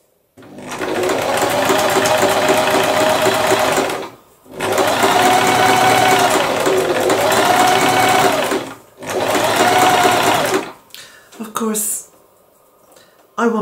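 A domestic sewing machine runs in three long bursts while stitching a small seam in fabric, loud and close, with short pauses between runs and a few handling sounds at the end.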